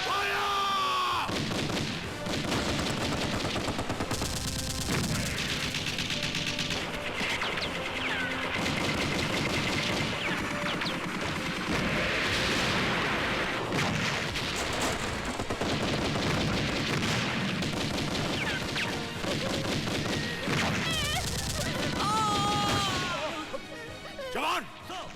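Dense machine-gun and rifle fire crackles through a battle scene in an Indian action film, with blasts mixed in and shouted voices over the continuous loud barrage.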